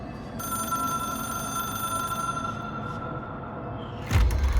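An old telephone rings in the video game Control, a bright sustained electric bell tone over a low ambient hum, fading out before a sudden thud near the end.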